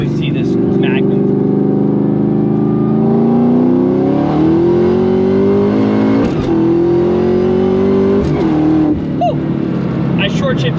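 A Shelby Cobra accelerates hard on a highway, its engine climbing in pitch through the gears with quick, early shifts; a voice briefly calls out near the end.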